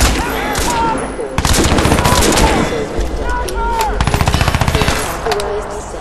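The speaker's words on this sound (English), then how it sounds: "Oh, a new gun! Haven't used this but yet. A sniper. Let's try this out." Sniper rifle fire in the video game Crysis 2: loud, close shots over rapid repeated gunfire bursts and game effects, with tonal sounds and a voice talking among them.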